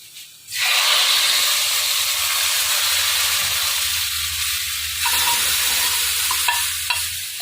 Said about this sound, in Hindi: अब इसका हम तड़का लगा देते हैं।